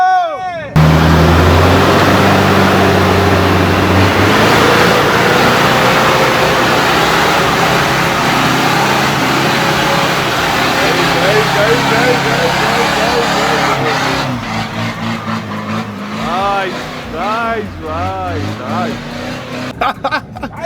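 Toyota Hilux driving off-road, its engine roaring and revving steadily at close range, with people talking and shouting excitedly over the continuous motor noise.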